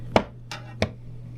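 A wavy cutter presses down through a loaf of oatmeal honey soap in three sharp, separate cuts, each a crisp close thud, with quiet between them and no talking.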